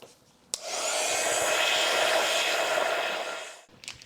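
A hair dryer switches on with a click and blows a loud, steady whooshing hum over a watercolour painting for about three seconds before cutting off.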